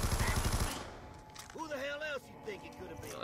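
A light machine gun in Call of Duty Zombies firing a fast, loud rattling burst for under a second, followed by game sound effects and someone talking.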